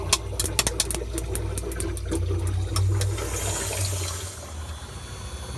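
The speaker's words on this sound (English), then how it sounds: "That gurgling sound is the air in the hose moving around because it's no longer pumping water" Air gurgling through the hose of a Manitowoc QM 45A ice machine once the water pump stops, a run of close bubbling pops and sloshing over a constant low machine hum.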